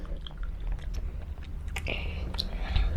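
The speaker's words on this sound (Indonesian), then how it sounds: "Kita makan lagi." Close, wet chewing and biting of juicy mango while eating on camera: soft squishy mouth sounds and small clicks over a low rumbling background, with no talk.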